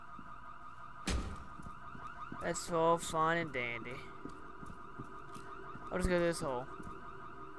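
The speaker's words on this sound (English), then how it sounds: "Sets off a car alarm." In the F.E.A.R. 2 video game, a car alarm wails in rising and falling electronic tones, sounding in two bursts beneath someone talking over the game audio.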